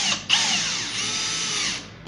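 A cordless drill drives a conical-head screw into a pocket-hole joint, giving one steady high whine of about two seconds with a short dip at the start as the screw bites. The drill runs alone at close range.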